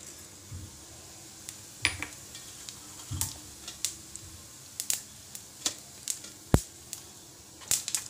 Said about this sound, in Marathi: जिरे आणि मोहरी फोडणीला घालूया.